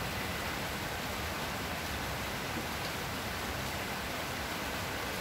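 Steady rain falls outdoors on a rainy day in Cainta, Rizal, a constant soft hiss that stays even and faint throughout with no voices.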